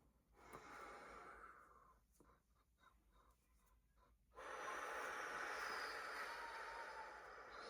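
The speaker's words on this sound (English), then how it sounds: "Breathe out through pursed lips." Breath pushed out slowly through pursed lips during an abdominal breathing exercise, a soft, steady airy hiss close to the microphone that grows stronger and more sustained in the second half, with no talking.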